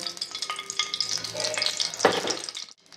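Two spoonfuls of ghee heat and sizzle in a kadhai for a fasting-day potato bhaji, a busy, close frying crackle with stirring clinks that swells near the end before falling quiet.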